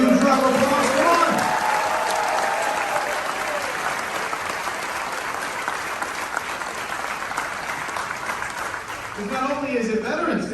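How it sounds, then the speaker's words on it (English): A cruise ship audience at a Veterans Day party claps and cheers in a dense, loud, sustained wash, with voices at the start and end. "Let's give them a huge round of applause."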